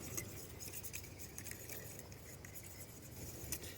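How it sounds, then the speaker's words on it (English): A fork whisks cornstarch into liquid in a metal mess kit pan outdoors, producing faint, rapid scraping and light metallic clinks in a steady rhythm, quiet and close with no speech. "Using your fork, whisk that until all of the cornstarch is completely covered."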